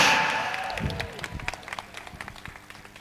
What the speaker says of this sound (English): ladies and gentlemen, with a round of applause, let's call on stage Alexa Bash.